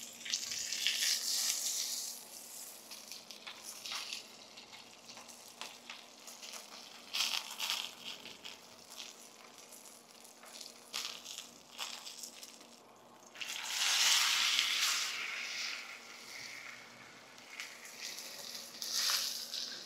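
A ribeye steak stood on its fat edge in a skillet to render the fat sears with a steady frying sizzle, swelling and crackling louder at moments as it is shifted, with no talk.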